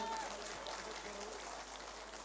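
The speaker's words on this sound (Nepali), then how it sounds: "जति पनि हलभित्र हुनुहुन्छ प्लिज जोरदार तालीले उहाँलाई स्वागत गरौँ" An audience claps inside a hall at a Fewa IDOL singing contest, a steady patter of many hands at moderate loudness that slowly eases off, with no talking over it.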